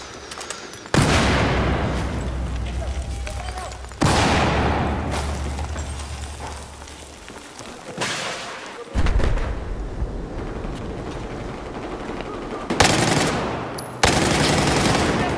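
Bulldog and Deagle gunfire in the Battlefield 4 video game: several loud, sharp bursts of shots, each followed by a decaying rumble, separated by brief quieter gaps.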